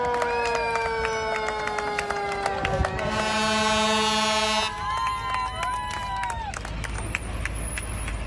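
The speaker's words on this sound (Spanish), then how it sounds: "Después de días de combate y luego de cientos de kilómetros, son aplaudidos." Applause greets volunteer firefighters arriving home after days fighting forest fires, heard through an outdoor crowd with sirens or horns sounding over wind buffeting the microphone.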